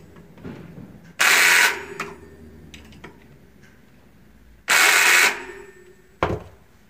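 Axle bolts are tightened on an electric bicycle wheel in two loud, close bursts of about half a second each, followed by a short final clack, with quiet handling sounds in between.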